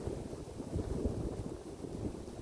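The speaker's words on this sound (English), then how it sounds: "And I'm sorry about the wind. It's such a windy day today" Steady low rumbling buffet of wind hitting the microphone outdoors at West Point, constant and close throughout with no voices.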